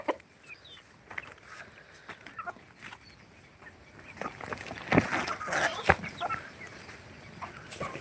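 Free-range desi country chickens on a farm in the morning, scattered clucks and calls near and far over background noise, growing busier toward the middle.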